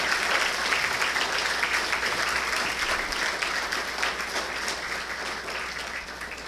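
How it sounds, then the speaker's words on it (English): An audience at a school awards ceremony applauds educators with sustained, even clapping from many hands that tapers slightly toward the end. "let us all give our educators and our English educators and our literacy educators a round of applause"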